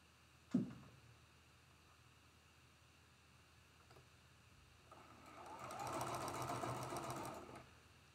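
A sewing machine sews the last seam of a quilt block in a short steady run of a couple of seconds, close and moderately loud, after a single sharp click earlier.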